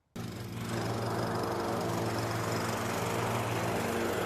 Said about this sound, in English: This time, a man and his lawnmower.